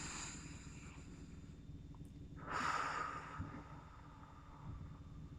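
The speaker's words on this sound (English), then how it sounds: "focus on the sound of your breathing" A single deep, slow breath drawn in during a calm relaxation exercise, close and quiet, rising briefly from a soft, hushed background and then fading.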